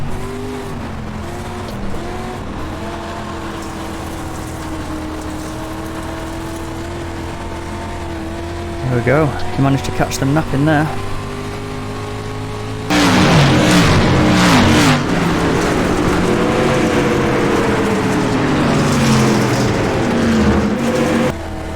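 Dirt street stock race cars in an iRacing sim race on a dirt oval: steady engine drone builds, then a louder surge of revving and tire noise as the pack accelerates, with a commentator talking over it.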